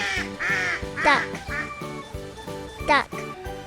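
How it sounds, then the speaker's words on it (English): A duck quacks repeatedly in short nasal bursts, loud and close, within a children's farm-animal song with music under it. "Duck,"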